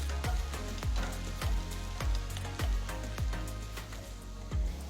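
Sliced carrot and cut beans sautéing in a pan for kadai paneer: a steady sizzle punctuated by regular clanks of a spoon stirring against the pan, about two strokes per second, close and alone.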